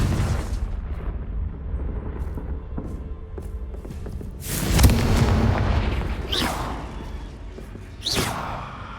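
A Confringo fire spell goes off in a Harry Potter game, a loud booming blast with a whooshing rush, followed by two further sharp bursts, all over a steady rumbling game ambience.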